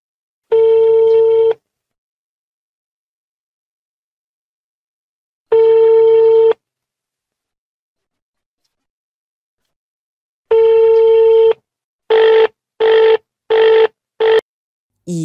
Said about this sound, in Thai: เดี๋ยวเจ๊ลองโทรอีกรอบ